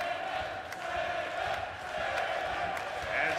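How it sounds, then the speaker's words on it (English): Wrestling crowd in a Nashville arena during an ROH Honor For All 2018 match, a steady broad roar of cheering that swells and dips, with a commentator talking over it. "As we hear Nashville coming alive, cheering on Sabin"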